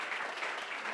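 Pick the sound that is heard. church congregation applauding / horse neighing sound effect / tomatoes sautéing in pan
church congregation applauding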